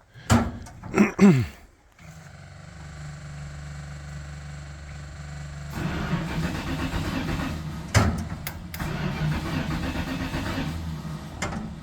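A Bombardier vehicle's engine cranks and catches after a few loud thuds, then settles into a steady, close idle that roughens and grows louder partway through, with a knock or two.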